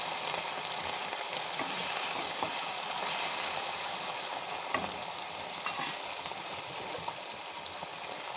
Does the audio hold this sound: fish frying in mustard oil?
yes